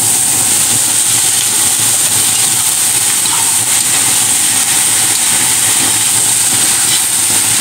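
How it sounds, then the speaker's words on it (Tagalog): Bottle gourd (upo) sautéing in a pan with pepper gives a loud, steady sizzling hiss that holds unbroken throughout. "At igisa po natin dyan ang ating upo."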